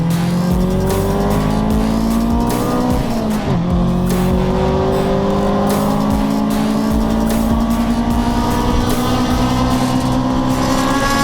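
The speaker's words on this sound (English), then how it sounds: "we're going to go over a lap of Sepang International Circuit" Race car lapping Sepang International Circuit during a track day, its loud engine note climbing steadily through the gears, with a brief dip and shift around three seconds, then sustained hard acceleration with constant close-up roar.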